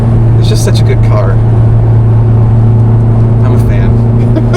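A 2007 Ferrari F430 Spider's engine drones loudly and steadily while driving, a strong low tone with a voice speaking over it.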